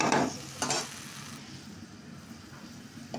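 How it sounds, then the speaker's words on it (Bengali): Ground spice paste for an egg curry fries in a pan, a continuous low sizzle with a couple of scraping stirs near the start and a faint tap at the end. "ঢেলে দিলাম বাটা মশলা, ভালো করে ভেজে নেব।"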